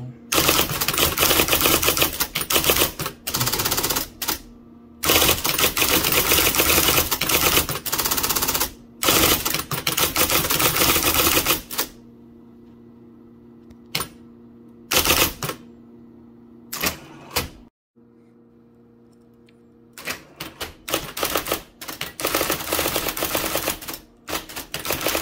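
Business cards being typed on a 1980 IBM Selectric III electric typewriter: rapid, loud bursts of key strikes and carriage clatter, broken by brief pauses, with a quieter motor hum in the gaps.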